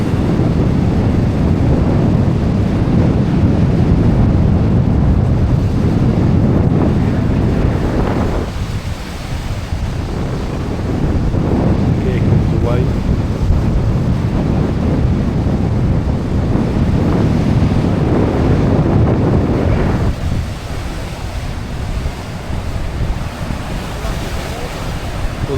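Wind and sea waves on the Gozo coast: loud, constant wind buffeting the microphone over the rolling wash of surf, with brief lulls in the gusts.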